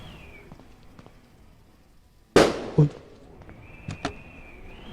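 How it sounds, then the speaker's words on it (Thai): A single sharp firecracker bang bursts out suddenly outside amid quiet background noise, followed by a couple of smaller knocks. "เหมือนคนมาจุดประทัดเล่นนะ"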